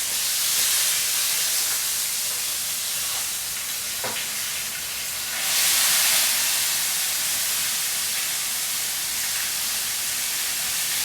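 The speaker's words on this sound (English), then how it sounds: "I'm going to drain some of this oil because it's burning." Burning-hot oil being drained from a steak frites pan into a cup that already holds liquid, a loud continuous sizzle and hiss with a sharp crackle near four seconds and a brief surge around six seconds.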